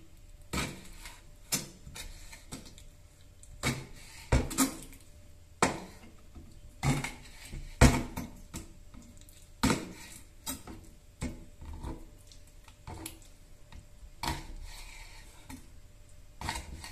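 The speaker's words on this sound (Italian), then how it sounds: "adesso stiamo tagliando tutta la seppia" A knife chops cuttlefish on a cutting board in a kitchen, giving quiet, irregular sharp knocks spaced about a second apart.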